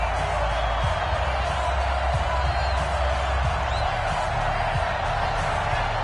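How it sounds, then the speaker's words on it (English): A Bills home stadium crowd roars steadily before a big third down in an American football game, a dense continuous wash of cheering and noise with no letup. "the crowd getting into it as we come up on a big third down"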